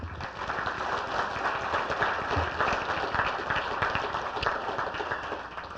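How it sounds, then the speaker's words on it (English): Audience applause at a banquet, a steady crowded patter of clapping that stays fairly even throughout the few seconds, moderately loud with no talk over it. "let's give another round of applause to Dr."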